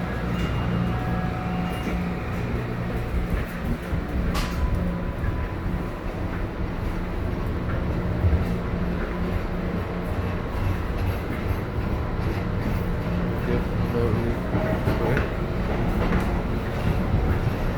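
Steady rumble and rattle of an MBTA Green Line train riding between Eliot and Brookline Hills, continuous and loud with wheel clatter throughout, no voices.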